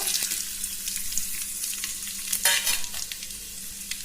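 Cumin seeds, dried red chili and bay leaf sizzle steadily in hot ghee for a desi village-style khichdi, a close, continuous crackling fry with a few sharper spits and bursts partway through, no voices.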